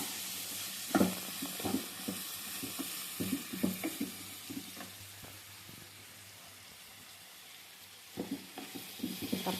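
Ridge gourd pieces stirred and sizzling in a pan, with a steady low fry underneath and repeated scraping and clattering strokes close by that come in clusters, pause for a stretch, then start again.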